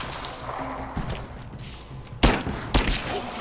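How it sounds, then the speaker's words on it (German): Pistol shots in the video game Rise of the Tomb Raider: two sharp, loud reports about half a second apart near the end, standing out over a low background of game ambience. "Ja, wir haben einen Schuss mehr gebraucht wie nötig"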